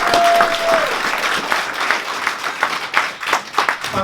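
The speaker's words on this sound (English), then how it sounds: "Big round of applause for Mr. Paul Rimmer." Audience applause at a conference fills the room for a guest speaker, a dense, steady wash of many hands clapping that holds loud throughout, with a brief tone near the start.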